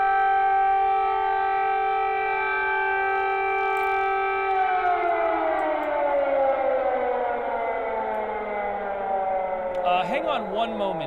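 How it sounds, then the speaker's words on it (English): A civil defense siren wails loudly with a steady harmonic tone that then winds down and falls in pitch, followed by faint noise at the end as it comes through playback. "The sound of the siren."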